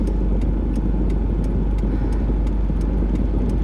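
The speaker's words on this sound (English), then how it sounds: "I'll leave the car running and the air running when I go to get my watch" A parked car left idling with its air conditioning running, giving a steady, even engine hum and fan drone throughout, with faint regular ticking on top and no talking.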